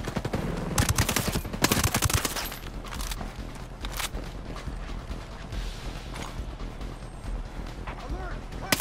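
Submachine gun fire in the tactical shooter Ghost Recon Breakpoint: rapid automatic bursts crackle sharply in the first few seconds, followed by scattered shots, mechanical clicks and rattling over a dense game soundscape.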